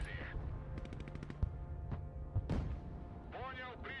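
Artillery bombardment in the video game Broken Arrow: a rapid burst of sharp shots followed by scattered heavy thumps and blasts, loud and close, with voices talking over the fire.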